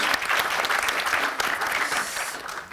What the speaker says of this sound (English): Round of applause again, thank you very much.